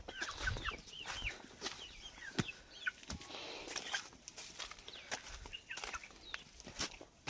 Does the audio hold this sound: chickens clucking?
yes